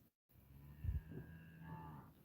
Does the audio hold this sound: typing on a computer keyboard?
no